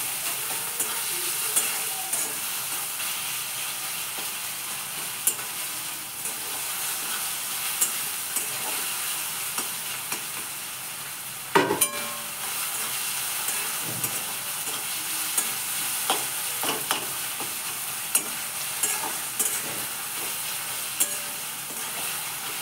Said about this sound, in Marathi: टोमॅटो चांगला तेलात परतून घेतली